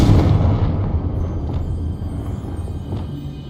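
A Confringo spell blast in the Hogwarts Legacy video game, a loud booming burst at the start that rumbles and decays over a few seconds, with faint later crackles.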